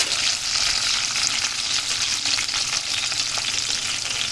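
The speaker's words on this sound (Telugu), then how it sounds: "పచ్చిమిర్చి, ఉల్లిగడ్డ ఇవన్నీ అయితే వేసుకోవాలి. వేసుకొని ఇవైతే కలుపుకోవాలి." Green chillies and chopped onions for a chicken curry hiss in hot oil while being stirred, a dense, steady, close sizzle lasting throughout with no voices.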